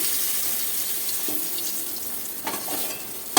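Bitter gourd and eggplant being tossed together in a frying pan for chorchori, a steady hiss of frying with a few soft stirring scrapes and a sharp clink at the very end.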